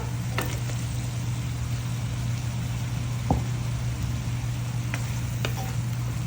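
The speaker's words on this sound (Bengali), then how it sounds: "এখন আমি আলু আর ফুলকপিগুলি দিয়ে দেব ভেজে রাখা" Potatoes and cauliflower frying in a spice paste in a pan, a steady soft sizzle with a low constant hum beneath and a few faint stirring clicks and scrapes.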